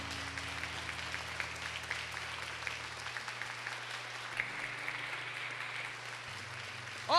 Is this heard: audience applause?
yes